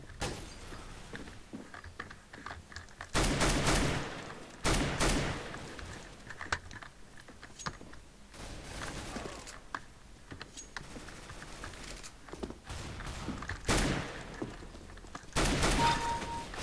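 Bursts of gunfire in the video game CS:GO come in short loud volleys, with quieter clicks and game noise between the shots.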